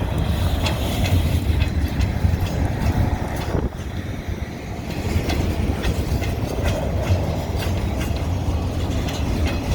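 A freight train hauling log and pulp cars rolls past in heavy snow, with steady loud rumble and repeated clickety-clack of wheels on rail joints throughout, no talk.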